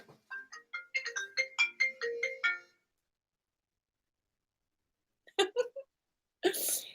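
A phone rings with an incoming call, a short melodic ringtone pattern of tones played close by, then a pause before two more brief bursts of the tune.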